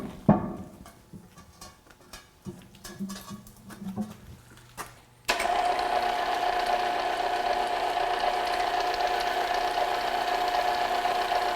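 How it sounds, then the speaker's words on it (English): A Lion lathe begins facing a hollow metal part: after a few seconds of scattered clanks and clicks, the machine starts abruptly into a steady whirring drone with a distinct tonal hum, continuing loud and even. "Let's go ahead and get those in the lathe and get started facing one side."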